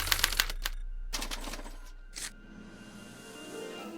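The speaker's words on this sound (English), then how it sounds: "they're relayed to this special typewriter, which prints out a punch card that represents the subject's mind map" A special typewriter printing out a punch card, a rapid burst of sharp mechanical clacks followed by a second run of strikes, then a fading whir and hum.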